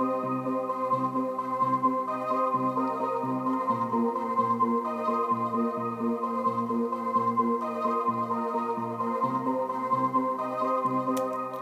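Layered keyboard part loop, several sustained keys stacking chords that shift every second or so, steady and fairly loud with no voices over it.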